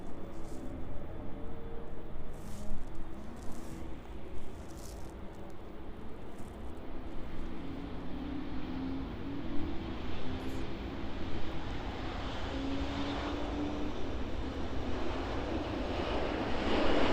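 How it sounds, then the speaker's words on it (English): A Boeing 777 landing at East Midlands Airport in the evening, a distant, steady jet engine roar with a broad rushing wash that stays constant throughout, with no talk. "777 landing in the distance."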